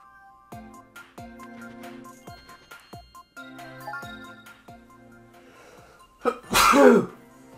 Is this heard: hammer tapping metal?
no